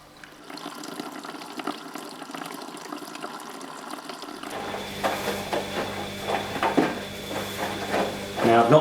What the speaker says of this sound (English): It's only filling up with hot water.